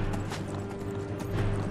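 Horse hooves clip-clop at a steady pace in the video game Skyrim, a rhythmic clatter over a low hum and background game ambience.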